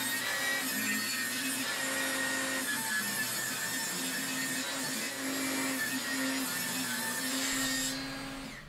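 A steady, loud mechanical whine with a constant tonal hum runs throughout as a circular saw, blade set to 16 mm depth, cuts through wood, winding down at the end.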